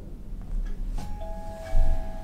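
A smart doorbell's chime rings indoors, a short electronic tone held briefly before a second ding, near and clear over quiet room noise.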